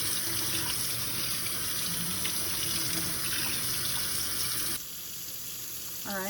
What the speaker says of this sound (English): Rinsing it now so I can put the next tuna, so there's no pieces of the other tuna.